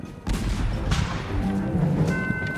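Dense gunfire from a Civil War battle, a burst of sharp shots rolling together into a sustained rattle with heavy low booms underneath.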